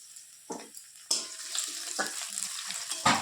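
White cumin seeds and chopped onion hit a hot pan in several sharp sizzling bursts, and a crackling fry continues between them at moderate loudness.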